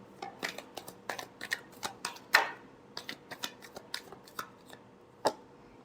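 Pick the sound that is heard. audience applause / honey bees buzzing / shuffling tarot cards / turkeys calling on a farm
shuffling tarot cards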